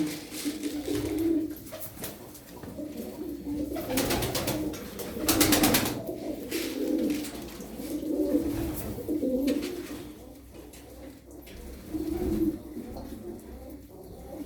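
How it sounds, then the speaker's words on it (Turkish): Tumbler pigeons coo in a loft, with soft, repeated low cooing calls overlapping at close range over a constant background hum and occasional rustling. "Kuşlarımız sağlıklı."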